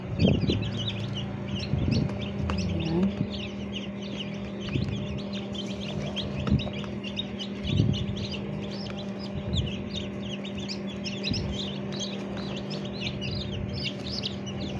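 Many newly hatched chicks from a manual incubator peep continuously in a dense, high chorus over a steady hum, with occasional soft knocks and bumps.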